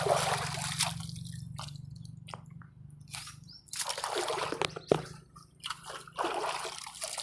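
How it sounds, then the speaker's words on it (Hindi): Water splashes and drips as someone washes their feet, with quiet intermittent sloshes and trickles, some bursts stronger than others, over a low steady hum. "इधर मैं पाँव धो लेता हूँ गाय, पाँव धोने भी ज़रूरी हैं।"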